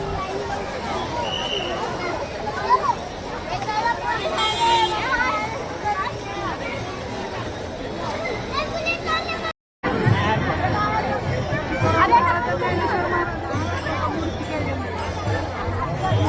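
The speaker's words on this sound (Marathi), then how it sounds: "तुम्ही गर्दी बघू शकताय दर्शनासाठी खूप गर्दी झालेली आहे इथे" A dense crowd of pilgrims at the Sant Dnyaneshwar Maharaj Palkhi festival in Nana Peth, Pune, fills the air with continuous chatter and children's voices, a loud unbroken babble with one brief dropout midway.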